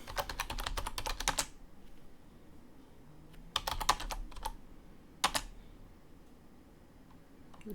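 Bursts of quick typing on a computer keyboard, close and fairly quiet, come in three separate runs of clattering keystrokes with quiet gaps between them.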